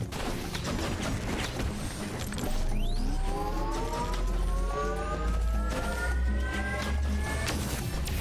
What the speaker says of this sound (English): Hear a siren outside,